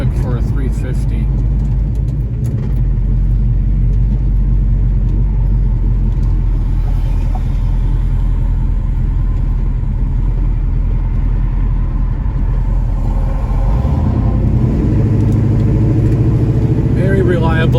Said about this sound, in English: This car is pretty quick for a 350.